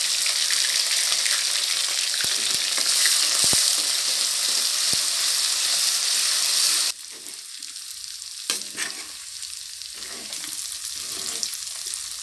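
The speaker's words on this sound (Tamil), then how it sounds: "இஞ்சி பூண்டு வதங்கிருச்சு." Ginger garlic paste with curry leaves sizzles loudly in hot groundnut oil for country chicken curry, a dense steady frying hiss for about seven seconds, then a quieter crackle with occasional stirring clatter.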